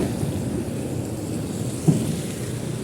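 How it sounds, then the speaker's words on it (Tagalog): Dense, steady roar of heavy rain pouring down, with a low rumbling wash throughout and no voices. "biglang bumuhos na naman yung ulan ah"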